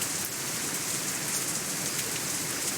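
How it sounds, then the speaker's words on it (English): Rain falling in the visual novel Katawa Shoujo, a steady dense hiss of rainfall on surfaces, even and unbroken throughout with no voices. "The rain increases a little more, offended that we haven't fled yet."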